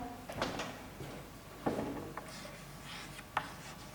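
Pen or marker writing out the given data of a chemistry problem on potassium hydroxide solution, heard as a few soft, scattered scratches and taps against a quiet room background, with no talking.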